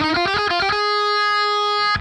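A distorted electric guitar plays a solo, a quick run of picked notes followed by one long sustained, ringing held note, loud and alone.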